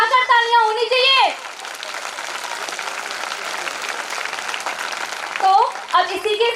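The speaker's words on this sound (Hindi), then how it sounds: "ऊपर हाथ उठाकर तालियां होनी चाहिए।" Audience at a Hindi poetry recital (kavi sammelan) during an annual function breaks into loud, sustained applause lasting about four seconds, bracketed by someone speaking before and after.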